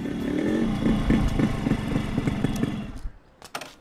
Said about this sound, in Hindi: बाइक चकाचक होते ही हम चल पड़े डॉन के घर